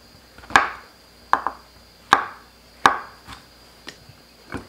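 Shiitake mushrooms being cut into pieces on a cutting board: five crisp knife chops at an even pace, each with a short ringing decay, close and clear with no talk.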